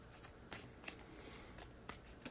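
A tarot card deck is shuffled by hand, giving soft, papery riffling rustles with several sharper flicks spaced irregularly, close but quiet, with no talking.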